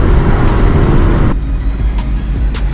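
The engine of a Dodge Challenger Hellcat Redeye, a loud, steady roar that drops abruptly to a lower rumble partway through, close and with no talking.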